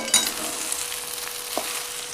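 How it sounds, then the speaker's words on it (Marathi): Sabudana khichdi being stirred in a hot pan, a soft, steady sizzle and hiss broken by a few light spoon scrapes and taps; close and fairly quiet, with no voices. "आता ह्याला हलवायचं"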